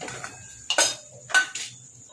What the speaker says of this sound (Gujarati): જોઈ શકો છો એકદમ ક્રન્ચી અવાજ આવે છે